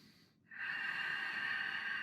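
A long, steady breath during a yoga flow. It starts after a short quiet gap and carries on as a continuous airy hiss, close and unbroken, with no talk over it.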